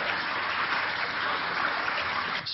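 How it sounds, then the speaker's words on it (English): Synthetic rain texture made from noise, a steady dense hiss of countless fine drops that stays even and loud throughout and cuts off abruptly at the end. "in this case, rain"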